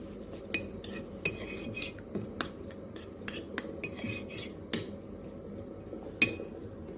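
A spoon stirring flaxseed into strawberry yogurt in a bowl, with repeated sharp clinks and scrapes against the dish in an irregular rhythm, close and fairly clear, and no voices.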